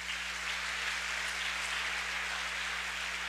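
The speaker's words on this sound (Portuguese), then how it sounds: "Dê uma salva de palmas aí." A church congregation applauds during a sermon, a steady, dense wash of many hands clapping together, even in loudness over a low constant hum, with no one speaking over it.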